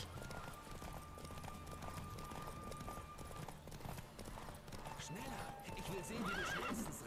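In The Witcher 3: Wild Hunt, a horse gallops with rapid, steady hoofbeats, then slows near the end with a brief whinny. A voice talks quietly underneath.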